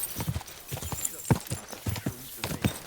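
Horse hooves clip-clop in a steady riding rhythm in the video game Kingdom Come: Deliverance II, close and distinct over a faint ambient bed, with a hint of a voice.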